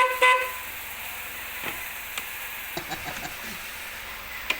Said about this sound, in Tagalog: papansin natin na napakahina ng tunog ng kanyang horn o yung ating oh, MOCC horn